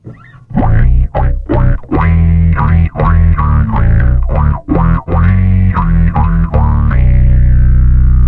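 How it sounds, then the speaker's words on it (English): A thick, distorted bass guitar through a Darkglass Kaamos pedal with an octave-doubled tone plays a run of punchy, rhythmic notes, ending on a long sustained note. "For the next preset, it's going to go octave, distortion, effects loop."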